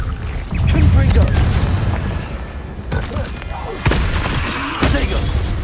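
A Confringo spell blast in Hogwarts Legacy, a loud, close, rumbling explosion that sustains, followed by a few further booming impacts layered over a continuous low roar.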